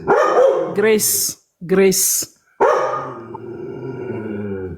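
A dog barks in sharp, loud bursts close by, two quick yaps with a whining edge, while a person keeps talking through and around them in an indoor setting.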